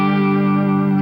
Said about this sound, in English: use a little bit of the tremolo bar on at the end. It's kind of a Bigsby effect